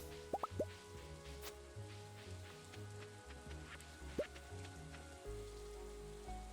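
Rain in the farming video game Stardew Valley, a soft steady patter with faint drips, heard quietly alongside light game music and a few short chirping blips.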